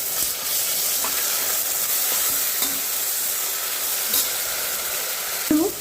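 Ginger garlic paste sizzling in a pan with golden-brown fried onions for egg biryani, a steady loud hiss of frying with occasional stirring clinks, no talking.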